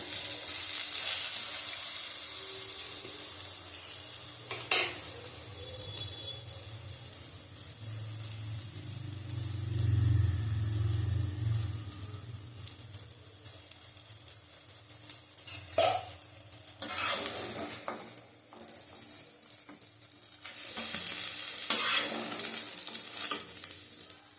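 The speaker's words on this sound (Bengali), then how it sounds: "বেগুনটা ভাজা হয়ে গেছে, বেগুনটা তুলে নেবো" Eggplant frying in oil in a pan, a continuous soft sizzle with occasional stirring scrapes and clinks, close and fairly quiet, no talking.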